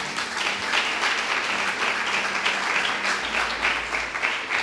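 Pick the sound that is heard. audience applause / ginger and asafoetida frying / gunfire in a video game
audience applause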